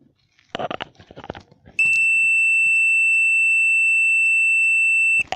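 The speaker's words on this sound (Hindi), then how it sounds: "ये देखिए बीप की आवाज़ आ रही है।" A multimeter continuity test gives a single steady, piercing electronic beep that holds for about three and a half seconds on a checked wire, preceded by brief handling clicks and faint rustle.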